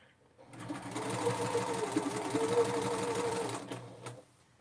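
Sewing machine stitching a quilt block, a close, steady whirring run of rapid needle strokes that starts after a brief pause and stops cleanly near the end.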